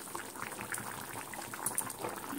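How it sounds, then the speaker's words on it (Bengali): Hot water boils in a cooking pot of meat curry, a continuous close bubbling and hissing texture at a steady, moderate level. "গরম জলটা দিয়ে দিয়েছি, এটা ফুটতে থাক।"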